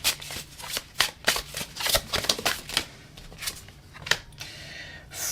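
Tarot cards are drawn and handled up close, giving a quick run of papery flicks, snaps and shuffling rustles with no talk over them.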